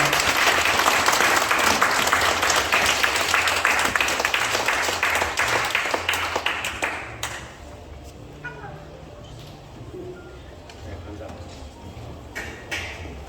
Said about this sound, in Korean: 정말 그 선생님의 에너지 열정에 박수를 보냅니다